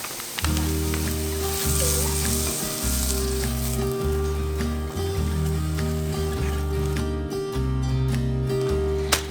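Dried jerky heating with oil in a skillet makes a loud, steady crackling sizzle, with a repeating low mechanical hum running underneath and occasional stirring sounds.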